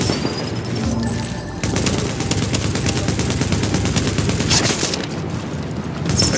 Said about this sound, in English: Is that a gunshot?